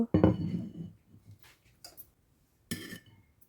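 A pot of dried-fish curry cooked with green mango is lifted off the stove: a sharp metallic clatter, a few softer knocks and scrapes, then another clank, close and fairly quiet in a still kitchen.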